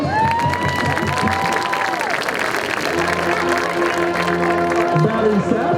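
A crowd applauds and cheers for marching band staff at a community night, clapping and shouts mixed with sustained tones from instruments and voices talking over the noise.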